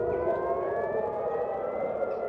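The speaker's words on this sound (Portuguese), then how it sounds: "As sirenes que alertam para ataques aéreos voltaram a tocar hoje em Jerusalém." Air raid warning sirens wail over Jerusalem, a sustained steady tone with faint overlapping pitches, continuous and fairly distant-sounding throughout, with no speech.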